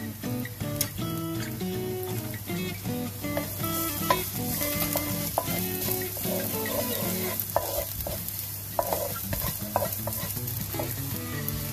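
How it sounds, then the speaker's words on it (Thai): Garlic is stir-fried in hot oil in a wok, giving a steady close sizzle with scraping and stirring clinks from the utensil throughout, without any talking. "แล้วเราก็ใส่กระเทียมลงไปผัด"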